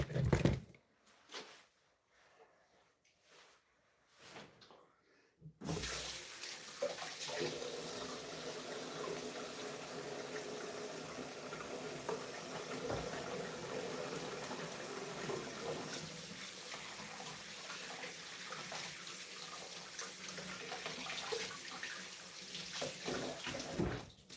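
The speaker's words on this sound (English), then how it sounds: "I'm going to wash my hands." A household tap is switched on after a few quiet seconds with faint movement, then water gushes steadily into the sink for about twenty seconds as hands are washed, close and continuous.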